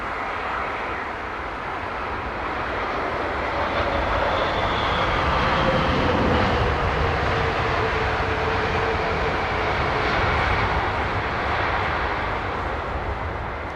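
A Qantas airliner roars past at London Heathrow Airport, a broad, steady jet rumble that swells toward the middle and then holds, loud and continuous with no voices.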